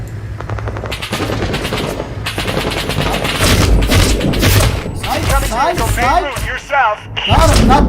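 Dense machine-gun fire and heavy booming explosions from the video game Six Days in Fallujah, loud and continuous, with shouting voices mixed into the chaos.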